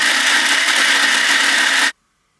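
A mixer grinder whirs loudly and steadily as it grinds rice with grated coconut and water into batter, then cuts off abruptly into silence.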